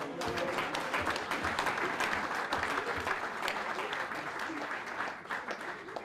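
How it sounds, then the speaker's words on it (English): A crowd at a high school sports banquet claps for a coach, dense steady applause filling the room with a few voices mixed in, fading slightly near the end. "So give him a round of applause."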